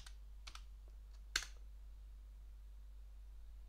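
A handful of quick computer keyboard keystrokes entering a Linux terminal command, a few soft close clicks with one sharper tap, followed by quiet hum and no speech.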